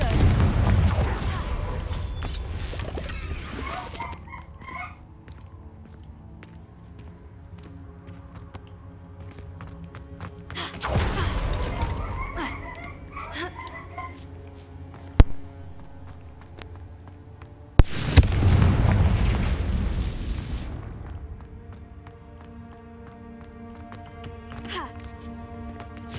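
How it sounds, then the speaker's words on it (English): Fiery Confringo explosion spell cast in the Hogwarts Legacy video game: two heavy, booming blasts several seconds apart, each rising out of a low rumbling game soundscape, with a voice speaking at times. "Confringo!"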